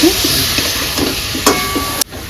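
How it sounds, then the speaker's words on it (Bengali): Chilli and spices sautéed with a splash of water in a pan for a prawn and taro dish, a loud close sizzle with faint stirring scrapes that cuts off abruptly near the end. "ভালো করে কষিয়ে নিচ্ছি না একটুখানি জল দিয়ে আমি কষিয়ে নিচ্ছি"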